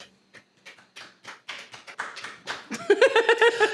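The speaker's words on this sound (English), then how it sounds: "That was a respectful clap." A few sparse, unhurried claps from one person follow a short pause, each soft and close, before a voice comes in over the final second.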